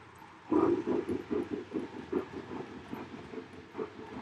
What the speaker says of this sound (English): what steam locomotive is the locomotive Georgia is trying to put on the track? That would be the cab forward